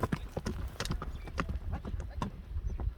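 A horse's hooves clip-clop close by in a quick, irregular patter of hard knocks, with a faint voice now and then in the background.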